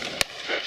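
A single sharp shotgun report fired at a pheasant during a partridge shoot, one abrupt close crack over faint outdoor background.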